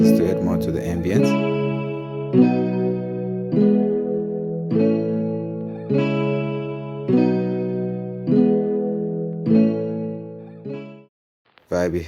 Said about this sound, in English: I'm gonna add a reverb, just to add more to the ambience.